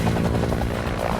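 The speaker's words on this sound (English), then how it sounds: "The crippled helicopter might not make it to the ship waiting offshore." Military helicopter carrying Navy SEALs, crippled after its engine took a direct hit, a loud steady rotor and engine drone filling the clip with no voices.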